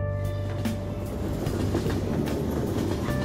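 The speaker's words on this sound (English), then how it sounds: "Ride the train." Steady rumble of a subway train ride in the video game Persona 5, with rhythmic clickety-clack of wheels on rails and a constant low drone, close and continuous with no talking.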